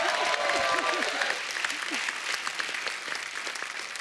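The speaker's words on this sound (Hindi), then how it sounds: "एक बार जोरदार ताली हो जाए" Studio audience at a television comedy show bursts into loud, dense applause that rolls on steadily for several seconds, with a few voices briefly audible at the start.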